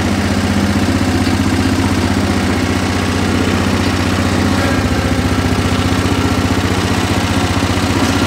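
A Cub Cadet 1450 garden tractor engine idles close by, a loud, steady low thrumming with even firing pulses that runs unbroken from start to finish.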